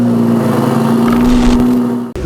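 A McLaren 650S sports car engine drones loudly and steadily close by for a couple of seconds, then cuts off abruptly.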